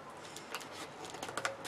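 Scissors snip and rustle at a taped parcel, giving short, faint, scattered cuts and crinkles close up with no talking.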